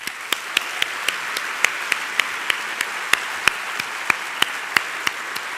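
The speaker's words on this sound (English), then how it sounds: "Please join me in a round of applause for our lecturers." Audience at a 2014 CSULB university convocation ceremony applauding lecturers: a steady hiss of many hands clapping together, with distinct sharper claps popping out at a fairly regular pace over the crowd's wash.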